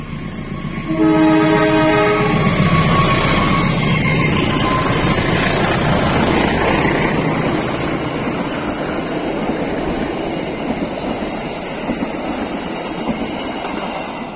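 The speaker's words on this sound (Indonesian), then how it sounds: "dengan melintasnya kereta api parsel jalur selatan" A parcel train on Indonesia's southern line rumbles past close by, its horn sounding several long blasts early on, followed by a steady roar of wheels and carriages.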